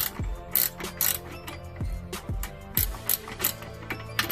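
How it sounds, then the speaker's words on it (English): Ratcheting clicks from a wrench loosening the top nut on a Lexus BC coilover strut, a series of sharp metallic pawl clicks in irregular bursts with heavier knocks, close and fairly quiet with no talking. "then you just wrench it off"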